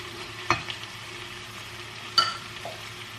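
Minced meat and onion frying in a pan as tomato paste goes in: a low, steady background sizzle broken by two sharp spoon clicks against the pan.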